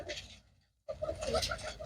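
Red-headed, yellow-eyed pigeons at a bird sale coo close by in two short bursts split by a brief silence, with a voice mixed in.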